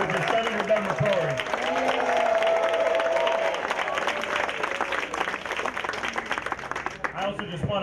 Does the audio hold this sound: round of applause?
yes